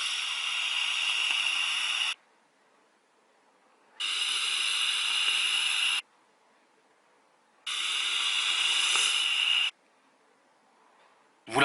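Vapor drawn through a Manta RTA rebuildable atomizer running at 50 watts with all airflow fully open: three long, even airy hisses of about two seconds each, separated by quiet pauses, close and loud.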